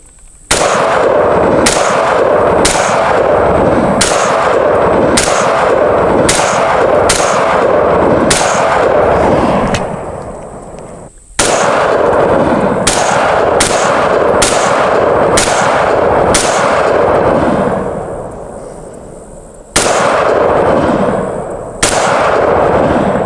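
Suppressed shots from an AR pistol upper with a KAK suppressor, fired outdoors in two fast strings of roughly ten loud, evenly spaced cracks each, every one trailing a short echo, with a brief pause between the strings and no voices.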